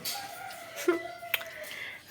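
Brief faint clucks of chickens at a village home, a couple of short calls over a quiet outdoor background with a faint steady hum.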